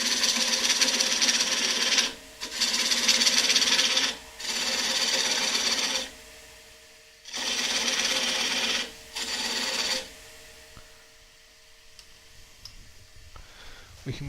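A wood lathe running at about 500 RPM while a tool cuts the tenon off a thin-walled turned bowl, heard as several bursts of gritty scraping separated by short pauses, then a quiet hum as cutting stops.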